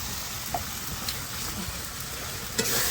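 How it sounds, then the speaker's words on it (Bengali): Spice masala for a chicken curry fries in a pan with a steady, fairly quiet sizzle, broken by a few light clinks and stirring scrapes, with no clear speech. "এই দেখো মশলাটা ভালো করে কষিয়ে নিচ্ছে"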